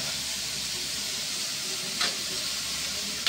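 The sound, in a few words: stirring pancit noodles frying in a pan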